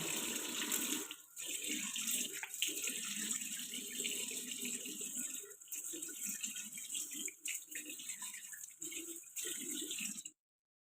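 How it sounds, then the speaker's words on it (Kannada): Tap water runs continuously into a sink while coffee face paste is rinsed off, a close, steady splashing rush with brief breaks and rattling drips before it stops abruptly. "ಫುಲ್ ಪೇಸ್ಟ್ ವಾಶ್ ಮಾಡ್ಬಿಡ್ತೀನಿ"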